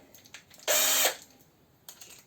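A power drill with a screwdriver bit drives the first screw into wood in a woodworking class building a spice niche, heard as one loud, close whir lasting under half a second among faint handling noises.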